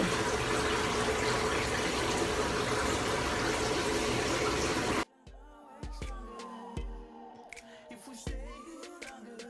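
Tap water gushes steadily and loudly while skin is being washed, then cuts off abruptly halfway through, leaving quieter clinks and bathroom handling sounds.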